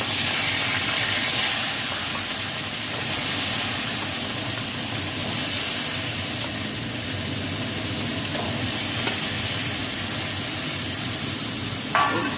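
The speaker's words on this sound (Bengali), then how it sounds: "এই মাছগুলো আমি এবার ভেজে নেবো।" Fish coated in salt and turmeric frying in hot mustard oil, giving a steady, close sizzle and hiss that runs the whole time with small crackles and pops.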